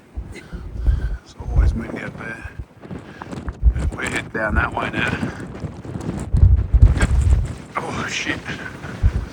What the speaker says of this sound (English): You'd be shocked to know it's windy. It's always windy up there.